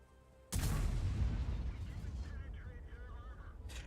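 A tank cannon fires a high-penetration round in World of Tanks, one loud close boom with a long rumbling tail that fades under faint background noise.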